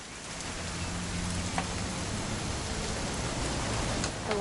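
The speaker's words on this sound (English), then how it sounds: "It's gonna rain the whole weekend" Steady rain pours throughout in the video game What Remains of Edith Finch, a dense even hiss of drops on surfaces with a low background hum and no talk.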